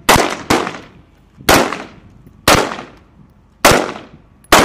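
A security forces squadron fires rifles during a walk-and-shoot proficiency drill: six loud, sharp gunshots ring out at roughly evenly spaced intervals, each followed by a brief echoing decay, with no talk.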